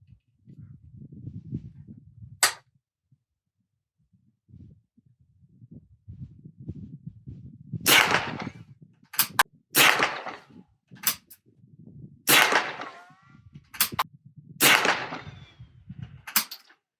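BSA Martini International Mark II target rifle fired at an outdoor range, a series of sharp single shots spaced a second or two apart, with quieter low rumbling and handling noise between them.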